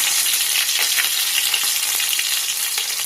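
Green chillies frying in a kadai with mustard seeds and garlic, a steady bright sizzle with light crackling that holds evenly throughout, close and alone with no voices.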